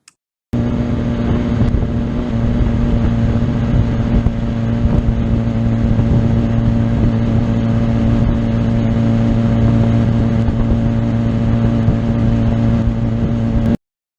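A motorcycle rides on a track at a steady, high engine drone that holds loud and even for about thirteen seconds, with no talk.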